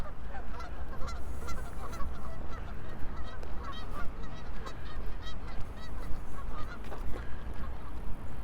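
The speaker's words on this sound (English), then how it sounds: "You can probably hear the geese." Geese honking around a lake in Regina, continuously, a dense chorus of many birds calling over one another, loud and close, with no gaps.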